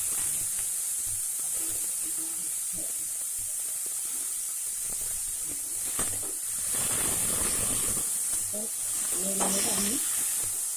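Steady, loud sizzling hiss of greens and vegetables frying in hot oil with fennel seeds and ginger for village-style Bengali pakoda, a continuous crackle with brief stirring sounds.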